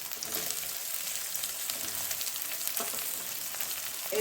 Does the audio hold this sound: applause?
no